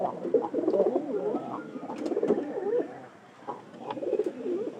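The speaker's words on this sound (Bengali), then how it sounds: "এটা কিন্তু পায়রি কবুতর," Several pigeons coo softly nearby in repeated throaty phrases, with small rustles and faint background noise between calls.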